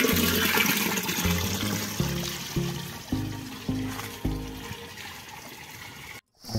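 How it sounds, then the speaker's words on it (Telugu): Cow urine poured into a 200-litre drum of water to make liquid jeevamrutham, a steady close splashing gush that weakens in repeated pulses before a brief cutoff near the end. "ముందుగా 10 లీటర్లు ఆవు మూత్రాన్ని 200 లీటర్లలో కలుపుకోవాలి."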